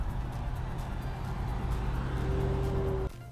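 A city bus in Santa Fe rumbles loudly as it pulls into a stop beside a damaged curb. The engine drone is steady, then it cuts off abruptly near the end.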